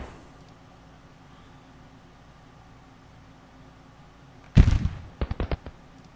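Artillery fire in the Civil War strategy game Grand Tactician: a loud heavy boom near the end, followed by several sharp quick reports, after a long stretch of quiet low background rumble.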